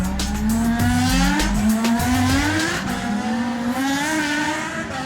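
Toyota AE86 engine revving hard during an anime street race, a loud continuous rising and falling engine whine with tire squeal, shifting pitch as the car accelerates.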